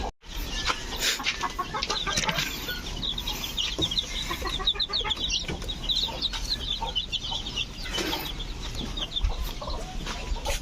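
Chicks cheeping steadily and densely close by while being fed probiotics, with continuous high peeps, light rustling and no talking.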